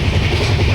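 A moving passenger train on the return journey, rumbling steadily with low rolling wheel noise and broad rattling wagon sounds, continuous and fairly loud throughout, with no talk.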